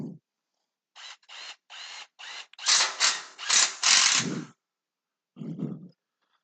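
Screws are driven in with a power drill in short bursts, four quick whirring pulses and then longer, louder runs before a final brief one, with silence between them and no voice.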